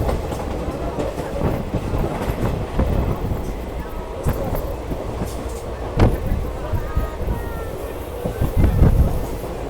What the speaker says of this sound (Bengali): আমাদের ট্রেন আহমেদপুর জংশন ছাড়লো